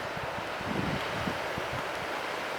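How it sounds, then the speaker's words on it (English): Ocean surf at Utah Beach in Normandy, France, a steady broadband wash of waves blended with wind rumble and gusty microphone buffeting, continuous and fairly loud with no voices. "Sounds like we could hear the ocean."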